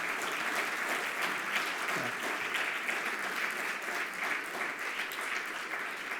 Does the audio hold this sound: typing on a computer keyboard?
no